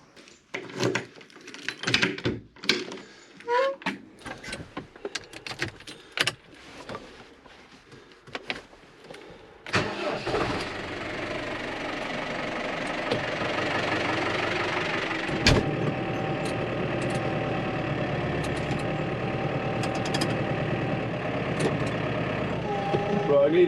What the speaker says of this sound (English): I need the tractor running